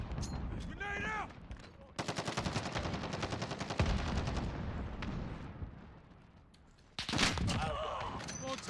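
Gunfire in a shooter video game after a grenade is thrown, with a long sustained burst of rapid automatic shots, a loud crack partway through and another heavy burst near the end, some voice-like sounds early on.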